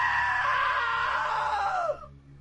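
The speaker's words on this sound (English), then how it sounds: "Now that was a great scream." A long, loud scream from a character in the video game What Remains of Edith Finch, a sustained wail that falls in pitch and cuts off abruptly near the end, leaving a low hum.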